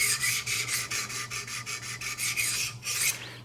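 A Benchmade 725 Kodiak Skinner knife is drawn across a sharpening surface in quick, regular rasping strokes, about a dozen close, steady scrapes ending with a brief pause and a final pass.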